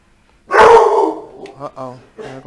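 A single loud dog bark up close, followed by a few shorter yips and whines trailing off.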